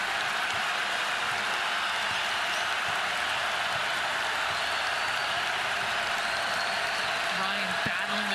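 Crowd roar in an arena during a women's college basketball rivalry game between Iowa and Iowa State, a dense, unbroken wall of cheering and noise with a play-by-play voice talking over it.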